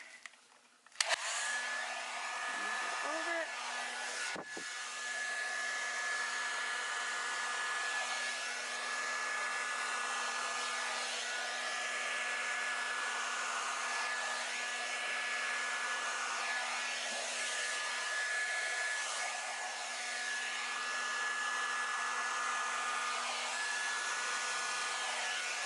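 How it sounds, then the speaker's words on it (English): A blow dryer runs over an acrylic Dutch pour painting, holding a steady, loud, continuous whir for the whole stretch with no talking. "get my blow dryer"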